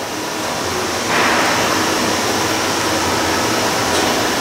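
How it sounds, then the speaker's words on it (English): Cooling fans on a vacuum forming machine shaping acrylic and polycarbonate signs, a steady broadband airy roar that swells slightly louder after a second and holds constant. "Turn our fans on."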